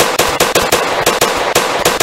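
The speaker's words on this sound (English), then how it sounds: "Shots fired, one down." Gunshots in a city police roleplay video game, a rapid string of about a dozen loud sharp cracks in uneven bursts, close and with no talk over them.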